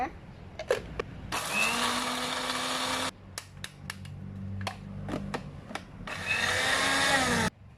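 A blender grinding lemongrass and garlic whirs loudly in two long bursts, separated by scattered knocks and clatter, with a low motor hum between the bursts.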